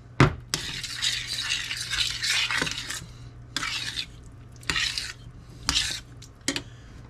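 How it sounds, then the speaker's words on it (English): Butter and coconut milk being stirred in a pot, a spoon scraping and clinking in bursts of close, bright scraping with brief pauses, with a faint low hum underneath. "stirring all the butter in, or country crock, or whatever you choose to use"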